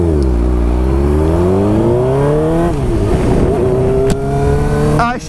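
A Suzuki GSX-R 750 motorcycle revs hard at full throttle, its engine note climbing through rising harmonics, dropping at a gear change and climbing again, loud and close throughout.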